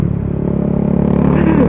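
A modified KTM Duke 390 motorcycle with a loud aftermarket exhaust drones steadily and rises slightly in pitch while riding, heard up close with wind and road noise over the short stretch.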